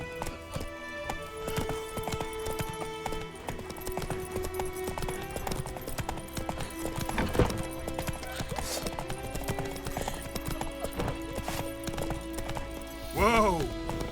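Hoofbeats of a horse galloping in The Witcher 3, a steady clip-clop rhythm running throughout with game music and ambience, and a brief whinny near the end.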